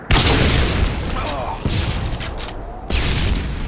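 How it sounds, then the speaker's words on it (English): Three heavy booms from stun grenades going off in Modern Warfare 2 on the Highrise map, each loud blast followed by a long ringing, rumbling decay. "Throwing a stun grenade!"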